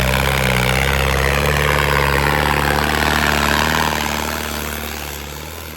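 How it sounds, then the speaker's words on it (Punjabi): A tractor engine labors pulling a trolley in a village pulling competition, a loud sustained droning roar with a steady low hum. Toward the end it slowly fades. "ਜੇ ਕਹੇ ਇਹ ਟਰੈਕਟਰ ਦੀ ਗਤੀ ਬਹੁਤ ਸੋਹਣੀ ਆ"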